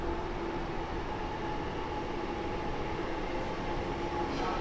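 S1 line commuter train, partly covered in graffiti, at Warszawa Zachodnia station during construction work, a steady rumbling hum of the running train that holds even and constant throughout, with no voices.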